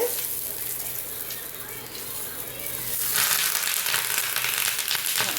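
Fish pollichathu, Kerala style, frying in oil in a pan, a steady hiss of sizzling that grows louder midway and stays close, with a voice talking over it.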